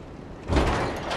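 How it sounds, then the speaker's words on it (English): A door is unlocked and swings open in Dark Souls 3, a single heavy low thud followed by a grinding rumble, fairly faint. "Unlocking the door."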